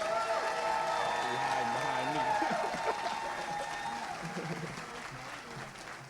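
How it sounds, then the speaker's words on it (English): A crowd at a high school athletic league awards ceremony in Oakland gives a round of applause for the league MVPs. Steady, moderately distant clapping is mixed with voices and some cheering and fades slightly toward the end. "let's give our MVPs of the league a round of applause"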